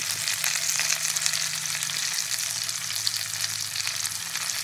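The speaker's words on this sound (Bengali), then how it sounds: "তো সবজির সঙ্গে আমি ফোড়নটাকে একটু কষিয়ে নেব।" Vegetables sizzle in a pan with tempering spices, a loud, continuous crackling fry close by with faint stirring, over a low steady hum and without any voices.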